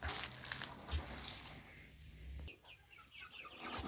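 Turkeys on a farm cluck and call softly as they are let out to graze on grass, faint and scattered calls with a few sharper notes toward the end.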